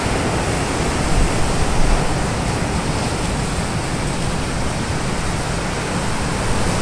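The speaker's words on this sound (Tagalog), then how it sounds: "Ang lalaki ng alon." Big ocean waves break on the shore at Cozumel in a steady, loud, broadband roar of surf that keeps up for the whole stretch, with no voices over it.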